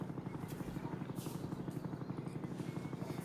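A helicopter in the Roblox Jailbreak video game, its rotor thumping in a fast steady rhythm with engine buzz, continuous and moderately loud throughout.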